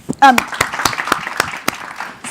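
A conference audience gives scattered, sparse claps, a handful of sharp separate hand claps spread over a couple of seconds, with a voice talking over them.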